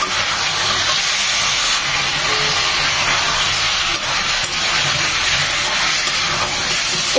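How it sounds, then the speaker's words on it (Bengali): Chicken pieces and halved potatoes frying together in a pan with their own released water, a loud, steady hiss of sizzling that holds evenly throughout, with no voices. "এগুলো 2 মিনিট ভেজে নেব চিকেনের সাথে"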